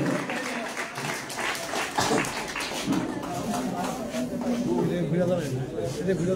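An audience applauds at a prize-giving for a speech competition, a steady wash of clapping that continues under a voice talking over it.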